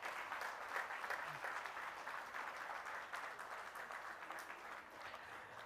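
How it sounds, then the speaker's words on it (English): A summit audience gives a big round of applause, many hands clapping in a dense, continuous wash that stays even and fairly faint for several seconds, with no talking over it. "So a big round of applause for A."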